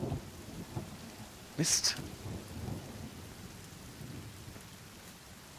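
Thunderstorm with rain in the video game The Forest, a steady hiss of rainfall with a sharp crack of thunder midway, while a voice speaks briefly near the start.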